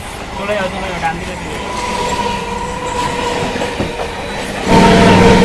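Steady rumble and rattle of a crowded local passenger train in motion, with faint voices in the background and a louder surge of noise near the end.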